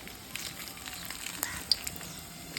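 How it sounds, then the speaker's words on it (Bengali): Dried red chillies and nigella seeds crackle and sizzle as they temper in hot mustard oil in a wok, with a few sharp pops over a steady hiss. "কড়াইতে সর্ষের তেল দিয়ে শুকনো লঙ্কা, কালো জিরে ফোড়ন দিয়ে"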